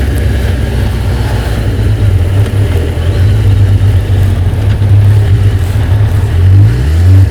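A Suzuki GSX-1300 motorcycle engine runs steady and loud, a low droning rumble that rises slightly as it revs near the end, with no talking.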